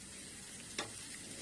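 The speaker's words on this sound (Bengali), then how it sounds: "এবার ফোড়নটা একটু ভাজা করে নিচ্ছি" Whole cumin, a bay leaf and broken dried red chillies tempering in hot oil in a karai, with a steady close sizzle and a sharp pop near the middle.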